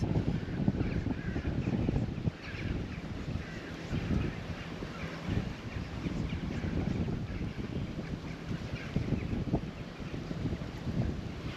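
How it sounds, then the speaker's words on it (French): Strong wind buffets the microphone continuously at a fishing spot, a loud broadband rumble with gusty fluctuations throughout and no talking. "le vent il est trop puissant"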